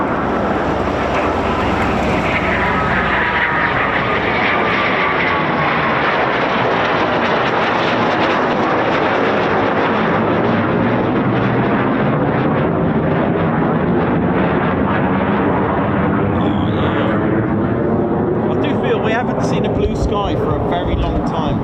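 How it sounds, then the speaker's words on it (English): An RAF Eurofighter Typhoon FGR4 fighter jet flying near its airbase, heard as a sustained, loud roar with a sweeping, shifting tone. The roar continues throughout, with wind buffeting the microphone. "Look, a Typhoon."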